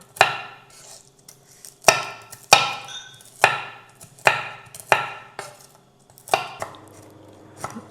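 Walnuts being chopped by hand with a knife on a board for Armenian gata, about nine sharp, separate knocks at an uneven rhythm, close and fairly loud, with quiet gaps between and no voices.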